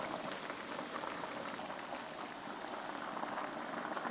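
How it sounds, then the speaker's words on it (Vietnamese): Chicken gizzards deep-frying in hot oil in a home kitchen, a dense, steady crackling sizzle heard close and alone for the whole stretch. "Thời gian chiên khoảng từ 5 đến 6 phút là được nha."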